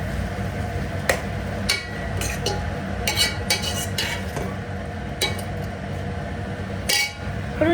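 Vegetables coated in ginger garlic paste are stirred in a pan while making sambar, with a steady clatter of the spoon scraping and clinking against the metal in quick, irregular strokes over low kitchen background noise.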